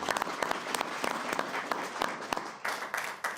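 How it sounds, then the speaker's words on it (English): A council meeting audience applauds an employee receiving a council manager award, with a few distinct, nearby hand claps standing out from the moderately loud applause. "We can give him a round of applause."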